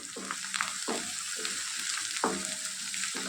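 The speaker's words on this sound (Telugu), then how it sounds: "అల్లం వెల్లుల్లి పేస్ట్ పచ్చివాసన పోయేంత వరకు వేయించుకోవాలండి" Ginger garlic paste sizzles and spatters in hot oil in a pan for chicken fry, a close, continuous crackle with a few stirring scrapes.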